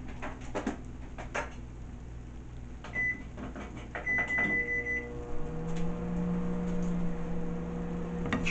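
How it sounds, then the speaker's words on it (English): A microwave oven hums steadily at low volume after a few beeps from its keypad, with faint clatter around it. "In the microwave for a few minutes"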